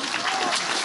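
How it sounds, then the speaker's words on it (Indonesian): Brief burst of crowd applause at an Islamic religious talk by Gus Bahru Zamzami, a dense steady wash of clapping filling under a second, fairly loud and close. "Nah, tepuk tangan toh"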